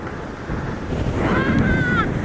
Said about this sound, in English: I can't believe how windy it is, Sash.